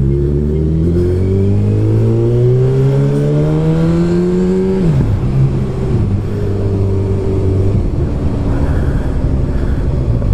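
A Honda CB motorcycle engine sounds up close while riding, with a loud, steady drone that rises in pitch through the gears, drops sharply at a shift midway, then settles into a lower steady run.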